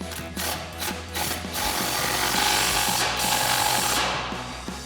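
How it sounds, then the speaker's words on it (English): Impact wrench with a 14mm socket tightening a hitch-bar bolt on a Ford F-250 pickup, a close, continuous rapid hammering rattle with a few quick pulses at the start, loud and without speech. "we're going to grab a 14mm socket on our impact and a 14mm wrench"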